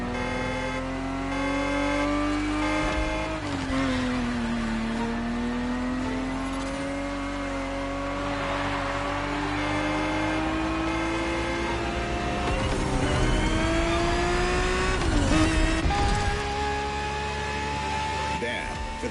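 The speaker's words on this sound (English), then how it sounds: "365 GTB4 is the perfect vehicle for you to experience Ferrari racing as it felt back in the 70s" Ferrari 365 GTB4 engine at racing pace in The Crew Motorfest, a steady loud drone that rises and falls with shifts and revs over the whole lap segment, with a voice talking over it.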